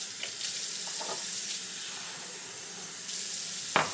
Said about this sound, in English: but I think I'm going to add some water